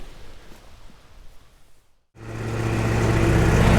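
An IH Super W-4 tractor engine cuts out briefly, then roars to life and holds a loud, steady, rising drone up close, building in intensity through the end.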